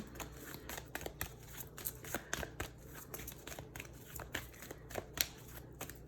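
Tarot cards are shuffled and drawn during a reading, making quiet, rapid papery riffles and snaps that repeat in uneven bursts.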